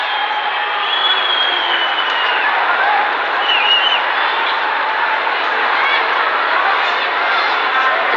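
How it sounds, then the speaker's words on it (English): A stadium crowd at a Nepal versus Myanmar football match roars and claps in a dense, continuous wash of noise, loud and sustained throughout. "The crowd eagerly awaiting."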